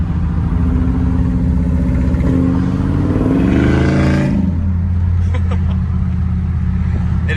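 Two W-body cars with LS V8 engines rip past, a loud, deep rumbling V8 drone that swells into a hard revving pass around the middle, then falls back to a lower steady rumble.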